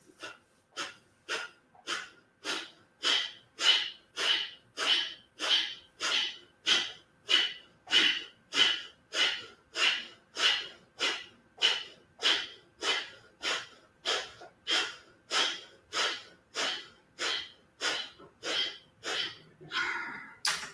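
Slow, steady breaths during a gentle yoga session, about thirty even exhalations in a regular rhythm, close and fairly loud, each with a soft airy rush, with no talking.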